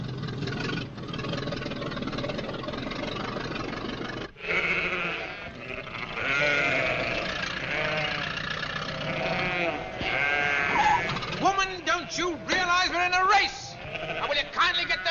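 A crowd of sheep bleats loudly and continuously, wavering calls overlapping near and far over a low engine rumble, with people talking among them.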